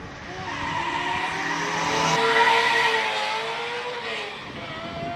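A Ferrari races up the Cape Town Speed Classic hill climb at a classic car event, its loud engine note climbing in pitch as it nears, peaking, then easing away with a hint of tyre squeal.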